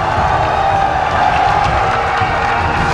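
A large crowd at a One Pride Pro Never Quit MMA fight event cheers and applauds after a knockout, a loud, dense wash of clapping and shouting heard close, with no one speaking.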